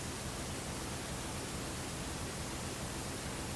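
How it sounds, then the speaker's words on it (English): A waterfall in the Sega Saturn game Magic Knight Rayearth gives off a flat, steady hiss of white noise that holds quietly and unchanged throughout, with no voices. "Great, we've got a white noise generator now."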